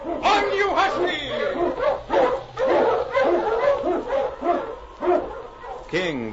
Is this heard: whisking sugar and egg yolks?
no